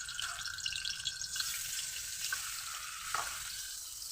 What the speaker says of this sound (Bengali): এবার আমি একে একে মাছগুলো ছেড়ে দেব।